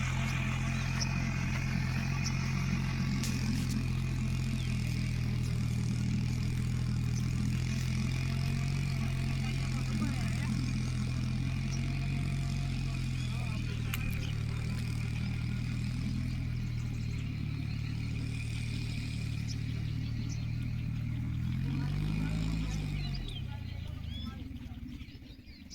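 Large tractor working a farm field during millet work, a steady low diesel drone running close and continuous for the whole stretch, rising briefly near the end before fading out, with no talk over it.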